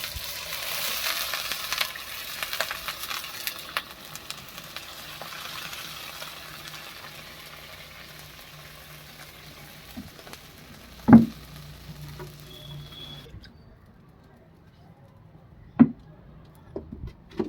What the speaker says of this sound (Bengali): আলুগুলো ভাজা হয়ে গেছে এবার জল ঢেলে দেওয়া হলো